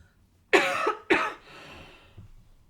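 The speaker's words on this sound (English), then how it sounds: "let me cough again" Two sharp coughs in quick succession, close and loud, followed by a softer breathy exhale trailing off.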